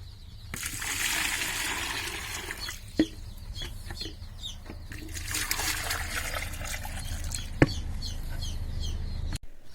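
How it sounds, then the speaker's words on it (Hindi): Water trickles steadily into a small chick drinker on a desi Sonali poultry farm, while many young chicks cheep and peep busily around it throughout. "अभी हम इन चूजों को इस तरीके के ड्रिंकर में पानी पीने के लिए देने वाले हैं"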